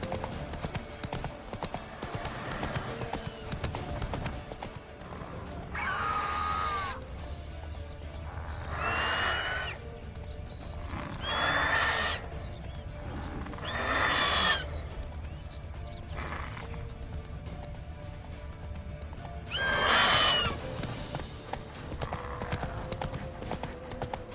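Roach the horse in The Witcher 3 gives several bright neighs over a steady galloping clip-clop, with a low game soundscape underneath throughout.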